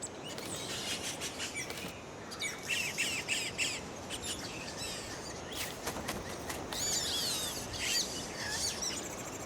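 A colony of hanging-nest weaving birds by the Essequibo River keeps up a dense, overlapping chorus of harsh squawks and chirps, loud and continuous throughout, with no talking.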